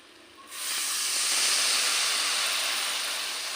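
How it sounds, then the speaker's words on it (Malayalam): Vinegar poured into hot fish pickle sets off a sudden loud, steady sizzle that rises after a brief quiet start and hisses on without pause. "അപ്പോൾ നമുക്ക് വിനാഗിരി ഒഴിച്ചു കൊടുക്കാം."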